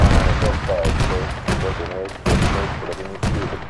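Heavy .50 cal machine guns fire in repeated bursts at a Kajman helicopter in a military shooter game, loud and dense, with game sounds and voices mixed underneath.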